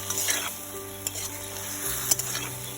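Prawns and bottle gourd sizzle and fry in a pan, a steady close hiss with a few soft clinks of stirring against the pan.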